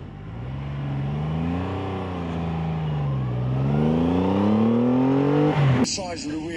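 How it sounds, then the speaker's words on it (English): A 2024 Triumph Rocket 3 GT Storm motorcycle with its 2,458 cc engine revs and swells through rising and falling pitch at a hill climb event, close and loud, then cuts off abruptly. "you can hear the sound of that great big engine"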